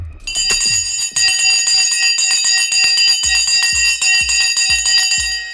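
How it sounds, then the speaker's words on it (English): An opening bell for the stock market rings out in a rapid, continuous clangor of bright metallic strikes, loud and sustained for several seconds with no talking. "The bell is gone."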